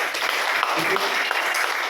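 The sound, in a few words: loud audience applause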